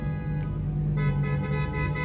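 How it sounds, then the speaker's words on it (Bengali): Car horn honking in the rain near a supermarket, a sustained tonal blare over the hiss of wet traffic and rainfall, fairly distant and moderately loud. "বৃষ্টির মধ্যে বুঝছো সেই রকম হর্ন দিতেছে"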